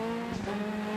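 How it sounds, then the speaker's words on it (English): A Peugeot rally car in the DiRT Rally 2.0 racing game, on a rallycross run at Lydden Hill, gives a steady, sustained engine drone that holds one pitch throughout the short stretch, with no one speaking. "You can see you can hear the Peugeot sound"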